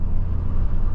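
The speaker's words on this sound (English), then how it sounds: "You can hear a bit of turbo right there." Engine of a Hyundai Veloster N with dual-clutch transmission, a steady low rumble with a faint turbo note heard from inside the moving car, continuous and fairly loud throughout.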